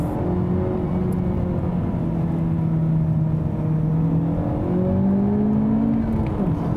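Engine of a 2017 Honda Civic Type R with VTEC, heard from inside as it pulls steadily upward toward a 7,000 RPM redline, a loud continuous droning rise with rising tones and road roar beneath.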